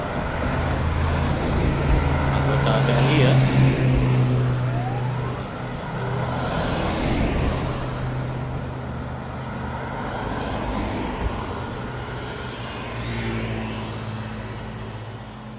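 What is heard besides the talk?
convoy of cars carrying soldiers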